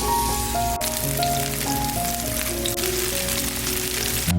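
Korean chive pancake (buchujeon) fries in oil in a pan, a steady close crackle and sizzle with soft background music.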